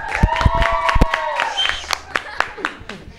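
Applause and cheering from a crowd at a dance festival in Sutatausa, with sharp individual claps and shouts under an announcer's voice and a sustained musical tone, moderately close.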